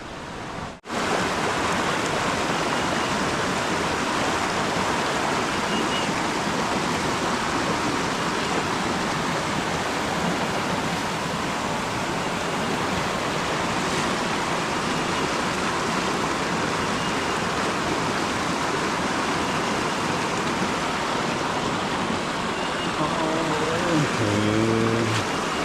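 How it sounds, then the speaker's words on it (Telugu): Fresh water flows in a forest stream near Devakunda Waterfalls, a steady broadband rush that holds loud and unbroken for the whole stretch, close by and with no voices over it. "ఇక్కడ వరకు చూస్తే ఫ్రెష్ వాటర్లా వస్తున్నాయి చూడండి ఫ్లో"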